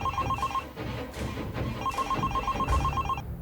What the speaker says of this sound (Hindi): अरे मेरा फोन बज